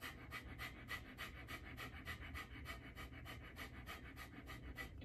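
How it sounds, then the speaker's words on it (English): Fire breathing: a person breathes rapidly in and out through the nose in an even, fast rhythm of short sniffing pulses, close but quiet, with no talking. "Now we're going to go right into that fire breathing, rapid in and out of the nose."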